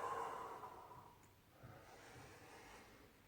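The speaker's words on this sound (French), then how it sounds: "et j'expire" A single long exhale through the nose during a slow floor exercise, soft and close, fading after a second, followed by quiet breathing with no talking.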